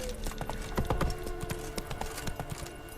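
Roach, a horse in The Witcher 3, gallops with quick, rhythmic hoof clip-clops, close and steady under a low background bed.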